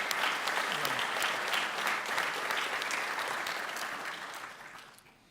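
An audience at a National Signing Day event applauds the organizers with sustained, steady clapping that fades out toward the end.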